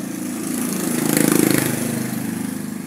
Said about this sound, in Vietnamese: Động cơ điều khiển tay ga.